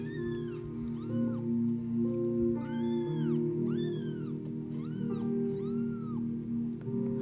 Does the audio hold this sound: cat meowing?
yes